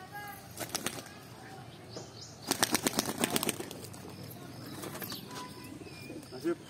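Pigeons nearby flap their wings in quick loud bursts, then coo softly in low, rumbling calls under faint background noise.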